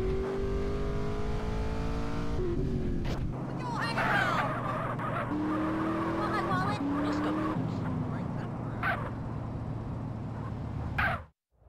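Car racing fast in GTA San Andreas Definitive Edition, a steady loud engine drone with rising revs and shifting tones under in-game voices and music, cutting off at the end.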